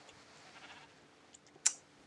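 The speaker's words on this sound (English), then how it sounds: "We have sheep here." A sheep bleats in the video game Minecraft, in the Tekkit modpack. A couple of short, faint bleats sit over a quiet background, and the clearest and brightest one comes near the end.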